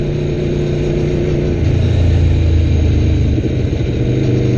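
A 2016 Aprilia Tuono V4 1100 RR sport motorcycle engine drones steadily and loudly close by, its tone rising slightly partway through as the exhaust hums on continuously.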